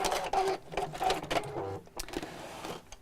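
A sewing machine runs in short stitching bursts back along a corded seam on a chair cushion, a close, steady mechanical whir broken by brief pauses, with no talking.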